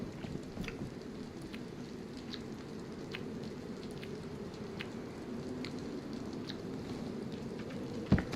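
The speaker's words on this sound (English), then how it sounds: "There's not much rain, is there really?" Light rain falls in the survival video game DayZ, a steady soft patter with scattered sharp drops ticking against surfaces, faint and even throughout, with one slightly louder knock near the end.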